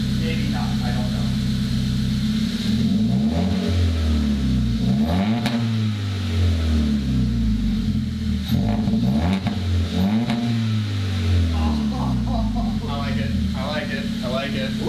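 A car engine with a newly fitted full exhaust system revs repeatedly, each rise and fall of pitch a deep rumbly sweep, loud and close, with a person speaking briefly near the end.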